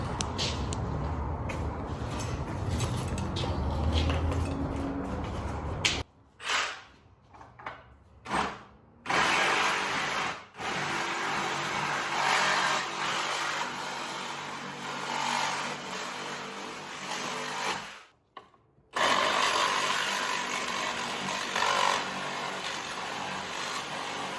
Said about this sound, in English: I'm going to take the Sawzall and just cut in between and cut the nails that are in between the boards.